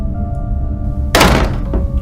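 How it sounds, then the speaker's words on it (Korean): A shower room door slams shut with one loud, sharp thud midway, alone over a low steady room hum. "내 샤워실 문이 쾅 하고 닫힌 거 있지?"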